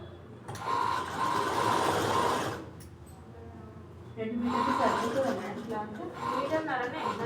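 A sewing machine stitching fabric in two loud bursts separated by a short pause, whirring and rattling close by while a person talks over it.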